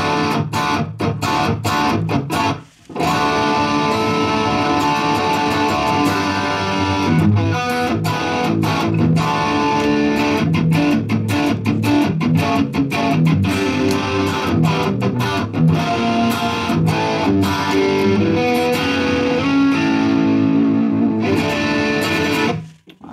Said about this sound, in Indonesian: Distorsinya udah enak banget, udah ada kerasnya juga, tapi buat ngegain juga enak.